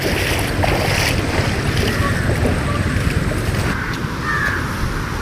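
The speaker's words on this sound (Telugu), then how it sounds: "శబ్దం చూస్తున్నారు కదా ఎంత ఎక్కువగా వస్తుందో. ఆ వాటర్ ఫాల్ యొక్క సౌండ్" Sarugudu waterfall in Anakapalli district gives a loud, steady rushing roar of falling water, heard close with gusts of wind buffeting the microphone.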